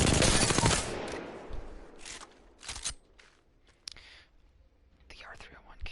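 Gunfire from an R-301 rifle on the Apex Legends firing range: a dense burst of rapid automatic shots at the start, then a few scattered, softer shots and clicks, all fairly quiet and close.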